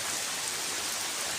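Light drizzle falls steadily, giving a soft, even hiss of raindrops on surfaces with no voices, as a cyclone approaches a rural home.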